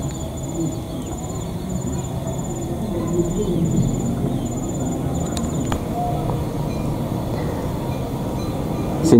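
A steady rumble of the Pepandayan passenger train rolls through Lebak Jero station in Indonesia without stopping, with rhythmic wheel clatter and a high intermittent whine, as someone speaks softly.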